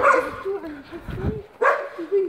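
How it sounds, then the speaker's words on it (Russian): Large dogs barking from an unfinished house above ruins beside an old prison, a few barks and yelps at a distance while someone talks over them. "Вон собаки наверху."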